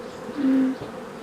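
Honey bees buzz around open hives during a honey harvest at a Ukrainian apiary, with a single close, loud drone swelling past for about a third of a second over a soft background hum.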